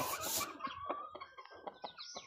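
A wild red junglefowl (labuyo) rooster, bright yellow and now fairly tame, gives a short series of soft clucks at close range, with rustling and light background noise.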